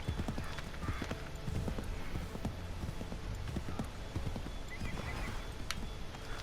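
A horse in the video game Assassin's Creed III Remastered gallops with quick, continuous hoofbeats, and a loud whinny rises over the running rhythm near the middle and again toward the end.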